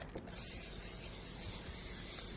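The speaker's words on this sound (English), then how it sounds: "I'll go ahead and spray that for you." Cooking spray hisses into a casserole dish for sweet potatoes in a steady, close, continuous aerosol stream lasting a couple of seconds, with a faint click at the start.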